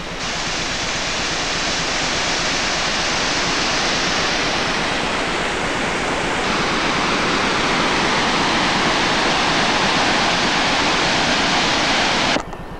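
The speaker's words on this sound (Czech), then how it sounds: "a zřejmě vodopád Skikkedalfossen" Skikkedalfossen waterfall at the head of Norway's Simadalen valley gives a steady, loud, broadband rush of falling water that holds evenly throughout and cuts off abruptly at the very end.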